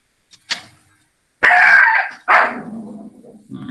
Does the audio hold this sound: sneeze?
no